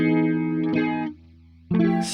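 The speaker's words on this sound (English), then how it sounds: "Since my guitar is mostly clean, I'm going to add a chorus." A clean electric guitar run through a chorus effect plays a few shimmering, doubled chords, the first two ringing together, then a brief low held note before another bright strum.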